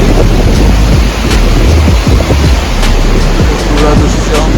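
Floodwater from a swollen river rushes through the Naraj barrage in a loud, unbroken roar, with wind buffeting the microphone throughout.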